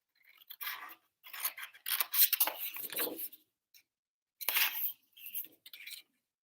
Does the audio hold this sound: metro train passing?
no